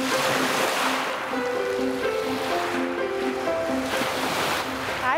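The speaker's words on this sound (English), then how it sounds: "They also call it the Singing Beach. It's north of Duluth in Two Harbors." Waves on Iona's Beach, the Singing Beach on the Lake Superior shore north of Duluth in Two Harbors, a continuous close wash of surf with a tonal ringing shimmer over it as water moves the stones.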